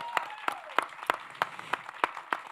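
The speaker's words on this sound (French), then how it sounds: "Un tonnerre d'applaudissements." Faint audience clapping at a French talk show about a short film comes as a sparse, evenly spaced beat of single sharp claps, roughly three per second, rather than a full roar.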